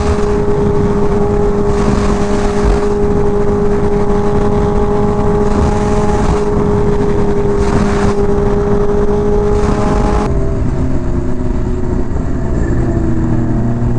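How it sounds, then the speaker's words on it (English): A supercharged Bimota Tesi H2 motorcycle running alongside a Kawasaki Ninja H2R, a loud, steady engine drone with a droning whine and fluttering pulses, the tone shifting and dropping near the end. "I hear the flutter from the supercharger from the Bimota"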